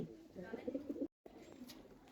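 Soft, low pigeon coos repeat closely in a short burst, then a brief gap, followed by quieter cooing, nearby and faint.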